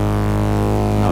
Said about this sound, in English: Without white noise it sounds something like this.